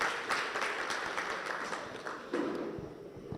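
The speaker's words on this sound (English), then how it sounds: "Let's clap for this great lady." Audience applause at a town hall meeting on the digital economy, a steady wash of many hands clapping that carries through the whole stretch with no voices over it.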